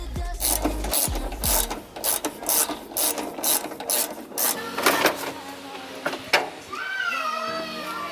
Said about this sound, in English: I'm gonna loosen these screws right here.